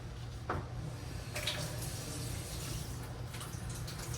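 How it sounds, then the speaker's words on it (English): Tap water runs softly in a kitchen as a spoon is rinsed, a faint continuous splash with a couple of light clinks, quiet and steady. "I'm gonna rinse my spoon."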